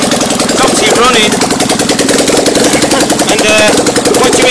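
A Fiat 650cc engine runs on a bench, a steady close mechanical idle with rapid rhythmic firing pulses and a constant loud level throughout.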